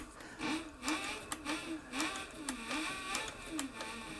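A Cowboy CB4500 industrial sewing machine starts sewing, a close rhythmic mechanical whir with regular repeating clicks of the needle, running steadily throughout.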